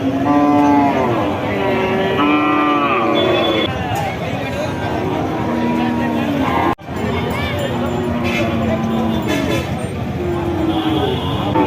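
Cattle low and moo amid the bustle of Satmile cattle market in Jessore, a large livestock fair selling thin, bony cows, with near and distant calls layered over constant crowd talk and occasional vehicle horns.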